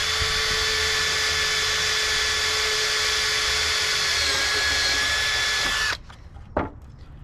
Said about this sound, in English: So when you're drilling, same thing. You just want to make sure that you go really slow.